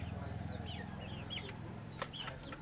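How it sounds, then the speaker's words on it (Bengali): Farm chickens clucking close by, several birds overlapping in short bursts of clucks and squawks over a low background hum, with a sharp louder call near the end. "এগুলো আবার ফার্মি মুরগি। এগুলো বড় আর অনেক দুষ্ট প্রকৃতির।"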